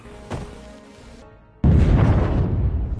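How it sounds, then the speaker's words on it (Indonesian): A local firecracker blows up inside an office in a film scene, a sudden loud burst after a quieter lead-in, followed by a sustained roaring blast and rumble that stays strong to the end. "Dalam sekejap, Jack ngelemparin petasan lokal itu ke dalam kantor alien."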